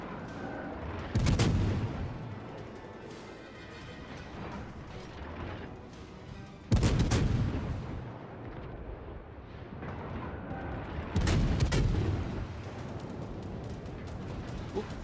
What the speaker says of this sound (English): Oop, flak's going again.